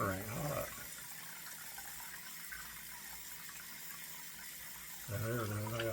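Tap water runs steadily into a sink while a hand is rinsed, a soft continuous splash lasting several seconds, with a voice speaking briefly at the start and again at the end.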